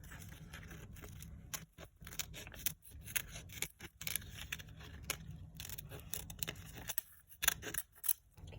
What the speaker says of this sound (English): Just kind of going in roughly and cutting them out.